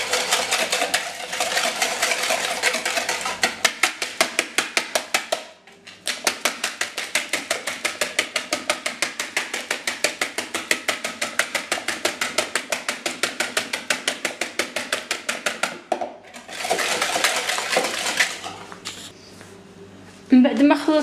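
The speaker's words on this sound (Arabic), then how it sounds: "من بعد ما خلطت البيض جيدا" Eggs and vanilla are mixed in a bowl with rapid, rhythmic whisking clicks and taps that run steadily, with a couple of brief pauses, under someone speaking throughout.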